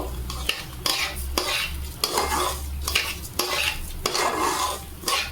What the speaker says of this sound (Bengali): নেড়ে চেড়ে নেব ভালো করে ভেজে নেবো